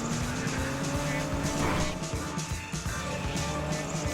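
A car races along in GTA 5 with a loud, continuous engine drone and rising tire squeals, dense and close throughout the clip.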